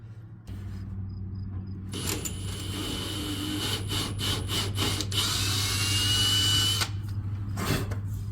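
A power drill bores through a thin RV body panel while fitting extra reversing lights, its high whine starting after a brief pause and running steadily for several seconds, rising and dropping in bursts over a constant low hum.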